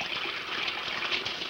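Cold tap water gushes steadily over a salted chicken being rinsed to wash the salt off, a continuous close splashing rush with no talk.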